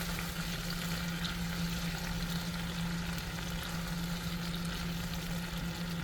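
Sardines with garlic and onion sauté in olive oil, a steady, even sizzle of frying that continues without pause and fills the whole stretch, with no voices over it.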